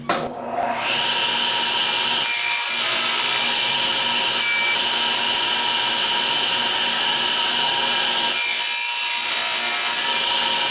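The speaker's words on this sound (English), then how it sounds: "I have my crosscut sled set up, and I'm going to use that to cut out the inside bottom part of the frame" Table saw with a crosscut sled slicing wood for a bird feeder frame, a loud continuous whining cut close by with two brief dips in load as the blade passes through; no voices.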